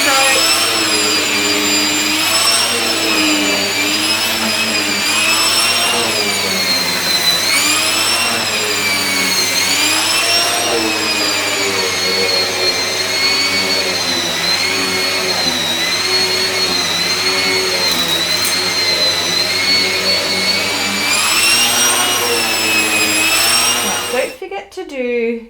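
A SEBO E3 Premium barrel vacuum cleaner runs steadily on carpeted stairs, a loud continuous motor whine with wavering pitch as the head moves in long strokes, cutting off near the end.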